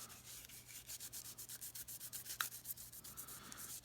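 Copper plating is scrubbed with quick, regular back-and-forth strokes, a faint, rhythmic rasping rub repeating steadily about six times a second, close up and alone.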